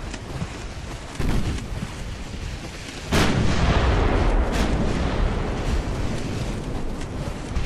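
Naval gunfire from warships in the Ultimate Admiral Dreadnoughts naval battle game: deep booming cannon blasts, a smaller report near one second, then a heavy, sustained barrage from about three seconds that rumbles on loudly to the end.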